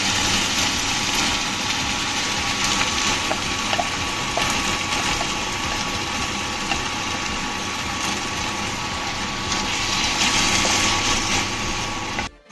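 A steady, loud motor whine with a rattling, churning grind runs continuously, like a mixer blending a thick paste, then cuts off abruptly.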